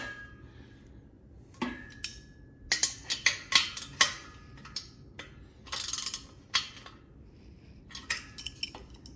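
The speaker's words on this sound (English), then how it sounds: "use my ratchet on the other side" A ratchet clicks in short bursts while tightening a bolt on a Weider Legacy bench press during assembly, with sharp metallic ticks and clanks at close range, no talking.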